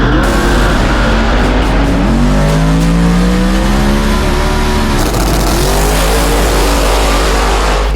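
A drag racing car's engine roars at full throttle, loud and close, its pitch sweeping upward through repeated gear changes over a constant heavy low rumble.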